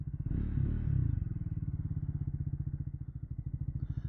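A 2024 Triumph Speed 400 motorcycle slows to a stop, its single-cylinder engine thumping in a steady rapid pulse that settles into idle, close and moderately loud with no talking.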